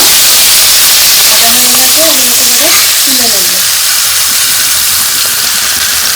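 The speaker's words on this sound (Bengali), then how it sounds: "এদিকে লাল শাকটা ভাজা হচ্ছে" Loud, steady sizzling of red amaranth leaves frying in a hot pan, with a voice speaking briefly over the hiss.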